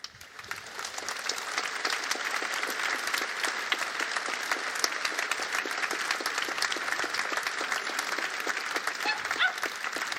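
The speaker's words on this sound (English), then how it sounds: "people are applauding to this" An audience applauds a speech at the Festwochen festival with dense, steady clapping that fills the whole stretch. It stays loud and even from start to finish, with no voice over it.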